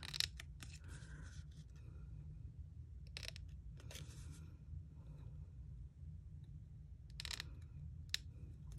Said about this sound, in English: And I'm going to cut it right up to that scored line.